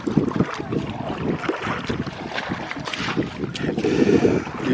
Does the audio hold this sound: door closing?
no